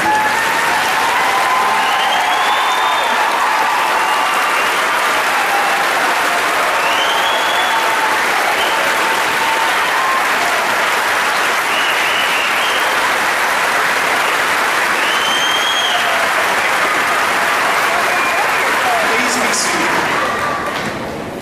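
A graduation ceremony crowd at Ohio University Chillicothe in 2012 gives loud, continuous applause for a public service honoree. The clapping stays thick and even for over twenty seconds, with occasional whoops and cheers rising above it.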